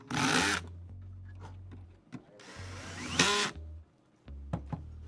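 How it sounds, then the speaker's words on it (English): An electric drill runs in short bursts of high, whirring noise, with pauses between them, beside a low electrical hum in an indoor room. The drill is close and fairly loud. "I hope my drill is also louder."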